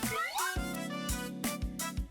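A cat in the Toca Life world game gives a single clear, drawn-out meow that rises and bends in pitch, followed by soft game chimes and tones.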